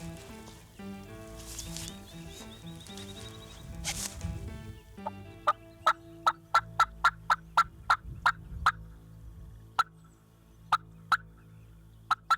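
Wild turkey longbeards gobble in the field, a few rich gobbles at first, then a long run of sharp, evenly spaced clucks or yelps from a hunter's call, all at moderate distance with no talking.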